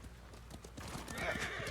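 In the video game Ghost of Tsushima, a horse's hooves clop rhythmically and close, then the horse gives a neigh, with game ambience behind and someone speaking faintly.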